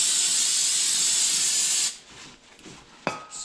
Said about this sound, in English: spray the caliper off a little bit.